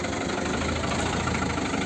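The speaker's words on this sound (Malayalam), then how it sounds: "ബസ് പുറപ്പെട്ട്" A steady low bus engine idle rumbles continuously with a faint mechanical vibration and no voices.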